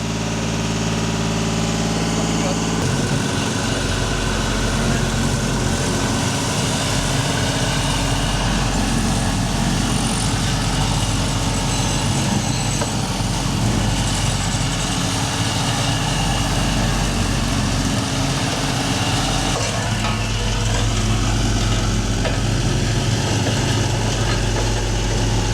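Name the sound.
Terex Benford TV1300 roller engine running, noisy and vibrating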